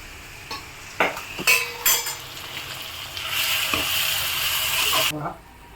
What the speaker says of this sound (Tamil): பெரிய வெங்காயம் சின்ன வெங்காயம் தக்காளி கருவேப்பிலை பூண்டு எல்லாத்தையும் சூப்பராக நல்லா வதக்கிட்டு